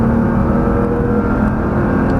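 A Nissan GT-R engine pulls hard under full throttle on a Las Vegas race track, a loud, continuous, close roar with no gaps.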